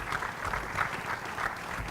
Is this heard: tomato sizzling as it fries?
no